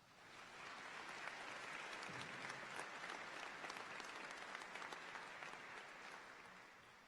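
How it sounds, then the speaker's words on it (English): An audience at a high school graduation ceremony claps, a dense, sustained applause that swells in and holds steady without talk. "Please give them a round of applause"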